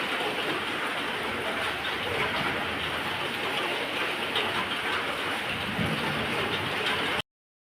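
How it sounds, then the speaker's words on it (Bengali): Heavy rain pours down during a thunderstorm, a dense, steady hiss and patter on surfaces that stays loud and even throughout before cutting off abruptly. "জোরে শুরু হয়ে গেছে বৃষ্টি।"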